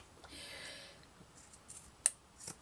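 Scissors cut ribbon for a bib necklace appliqué. The quiet snips are faint and brief, with a couple of sharper clicks near the end.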